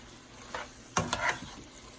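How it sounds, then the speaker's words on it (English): Diced sausage and fried plantains are stirred together in a pot for gizdodo: a few short scraping, clattering strokes over a faint background sizzle. "Add your diced sausage. Stir it up properly. Add your fried plantains."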